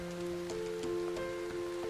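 Rain falls in a steady, soft patter with scattered drop taps, heard alone at low volume beneath a faint constant hum.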